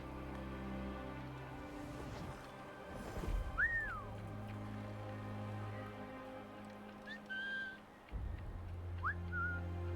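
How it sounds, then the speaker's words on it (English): A character whistling in the video game Assassin's Creed Rogue, a few brief rising two-note whistles at moderate distance over a steady low droning game ambience. "Oh, I like the little sound waves that go out when you whistle."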